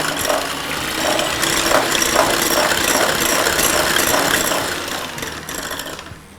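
A whisk beats eggs until light and fluffy, giving a fast, continuous mechanical whirring with a ratcheting texture, loud and close, that holds steady before easing off at the end.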